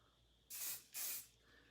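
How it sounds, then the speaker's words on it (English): Hairspray is sprayed onto a single curl in two short, loud, close hissing bursts separated by a brief pause, with quiet room tone before and after. "then hairspray that individual curl"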